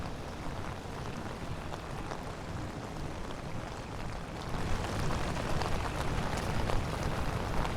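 Steady rain pours on a street at Court Square in Long Island City, New York, a dense continuous hiss of drops on pavement that grows slightly heavier partway through, with no voices.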